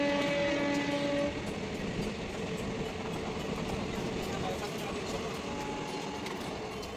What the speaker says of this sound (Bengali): তারপর ট্রেন চলে এলো